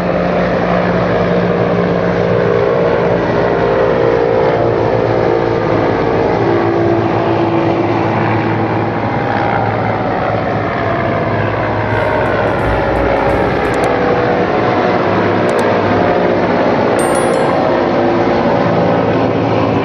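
Helicopter carrying the President of India near the Tripura Sundari temple in Udaipur, Tripura, a loud, steady engine and rotor roar that runs without a break, close by, with no talk over it.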